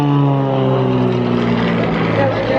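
A propeller aircraft powered by a flat-six Lycoming engine flies at the Blackpool Air Show, giving a loud, steady droning hum with strong tonal harmonics that holds without a break.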